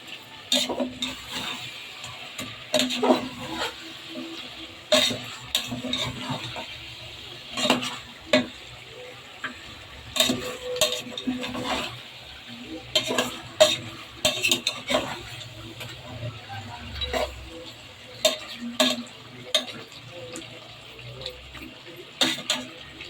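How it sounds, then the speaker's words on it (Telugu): A spoon stirs ginger paste in a pot while making chicken biryani. Sharp metallic scrapes and clinks come in irregular bursts over a faint sizzle, close and fairly quiet. "ఈ అల్లం పేస్ట్ వేసిన తర్వాత ఒకసారి కలిపేస్తున్నా"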